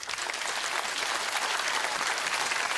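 Dense, steady audience applause fills the whole short stretch, a continuous wash of many hands clapping at even loudness with no voices over it.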